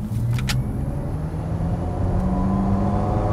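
A Genesis GV60 Performance electric car plays its simulated G engine sound, a steady, loud, car-like low drone with a brief higher whoosh near the start, heard alone without talk.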